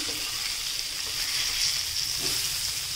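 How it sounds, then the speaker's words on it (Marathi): Katla fish pieces shallow-frying in oil in a pan, a steady close hiss of sizzling bubbling without pause. "ही साईड सुद्धा छानपैकी अशी तळून झालेली आहे आपली"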